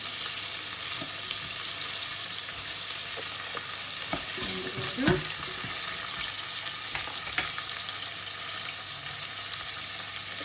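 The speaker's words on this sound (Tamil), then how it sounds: "உள்ளி ஒரு 7-8 உள்ளி உருக்கி வெட்டி வச்சிருந்தது அதையும் அதுக்குள்ள போட்டு காவி ப்ரௌனாக வர மட்டும்" Chopped garlic fries in hot oil for a Jaffna dried-fish curry, making a soft, continuous sizzle with occasional stirring scrapes and light clinks of a spoon against the pan.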